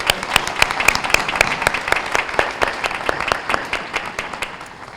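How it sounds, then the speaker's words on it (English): An audience applauds State's Attorney Jim Glasgow at a Take Back the Night event, with distinct, closely spaced claps standing out over a broader wash of clapping that holds steady, then thins slightly. "another round of applause for our State's Attorney, Jim Glasgow"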